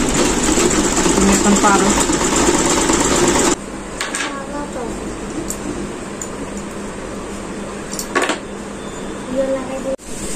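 A sewing machine stitches fabric at home, its steady mechanical whir running loud and continuous, then easing to a softer hum after a few seconds, with a voice speaking briefly over it.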